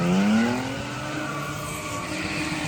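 A car doing a burnout at the King of the Cone 2024 motorsport event: a loud, continuous tire squeal with a rising pitch over steady engine roar, close and unbroken throughout.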